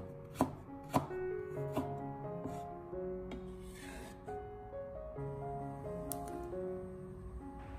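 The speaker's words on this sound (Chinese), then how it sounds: "再将它改刀切成小姜片" A knife chopping peeled ginger into small slices on a board, a few distinct sharp cuts spaced out at close range, with light clinks under steady background music and no talk.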